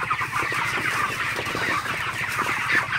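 Broiler chickens on a farm in intense heat, stressed and panting, give off a dense, continuous chorus of soft clucks and murmurs from many birds at close range, with steady low background noise and no talk.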